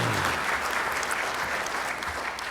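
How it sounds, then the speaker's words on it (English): Crowd of club members applauding at a Rotary Club meeting, a fairly soft but continuous wash of clapping that runs steadily throughout and stays unbroken. "So let's give Rich another round of applause"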